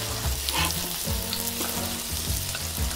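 Korean jeon pancakes pan-frying in oil give a steady close sizzle with crackling bursts and occasional scraping of a spatula, continuous throughout with no voices.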